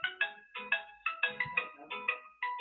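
A phone ringtone plays in repeated short electronic bursts, about a dozen evenly spaced chirps, fairly quiet and clear with no talk over them.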